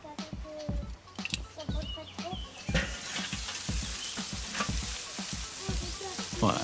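A spatchcocked poussin cooks over direct charcoal heat on a barbecue grill, giving a lively crackling sizzle with sharp pops and spits that build into a dense hiss, with faint sounds in the background.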